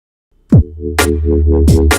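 A sustained UK garage synth bass note with a steady harmonic tone that bends and shifts pitch partway, holding fairly static with no LFO filter modulation or sweeping filter movement, alone.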